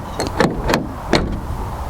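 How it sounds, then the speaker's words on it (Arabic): A used car's door is shut three times in quick succession, each a sharp latch clunk with a short metallic rattle, close and fairly loud against low background noise. "فهتيجي تقفل الباب تحس الباب بيتخانق مع الكالون وهو بيقفل"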